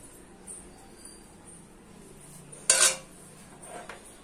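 The lid of a pressure cooker full of meat clanks shut in one short sharp metallic clatter, standing out from an otherwise quiet, low background.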